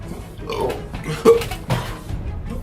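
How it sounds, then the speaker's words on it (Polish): A single short hiccup bursts out mid-clip from someone who has just eaten dried Trinidad Moruga Scorpion chili, close and fairly loud, with faint breathy vocal sounds around it. "O, czkawka."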